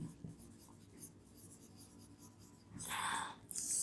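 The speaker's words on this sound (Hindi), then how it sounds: "तो यहाँ पे मैं लिख देती हूँ" Pen strokes on a board during an accounting lesson on share issue entries, faint soft scratching that ends in a louder, longer burst of writing near the end, close and quiet.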